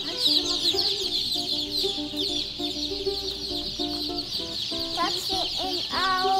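Baby chicks at a local farm store in Utah in spring keep up a steady chorus of high, close peeping chirps, with some clucking and a few voices in the background.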